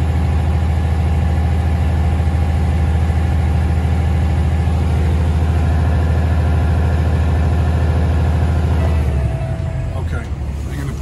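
A Kenworth T660 truck with an ISX 500 diesel engine idles with a loud, deep, steady rumble up close, then the note drops and thins near the end as it comes off idle.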